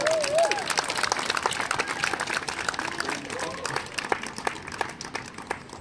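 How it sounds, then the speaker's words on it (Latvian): Outdoor crowd at a city event in Riga applauding, a moderate ongoing patter of clapping with voices and chatter mixed in. "Aplausus!"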